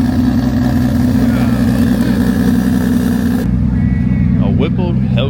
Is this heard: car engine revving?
yes